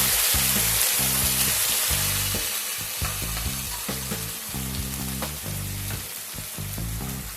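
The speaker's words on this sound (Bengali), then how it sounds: "পেস্টটাকে খানিকক্ষণ একটু কষিয়ে নেব" Spice paste fried together with crisp fried onions, cardamom and whole peppercorns for a Bengali bhetki fish curry, giving a loud, steady sizzle with rhythmic scraping and stirring strokes throughout, no voices.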